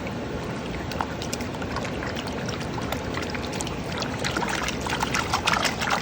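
Gold-bearing gravel being panned and fanned in water over bedrock in New Zealand: a steady close wash of sloshing, trickling water with small gritty splashes, no voices.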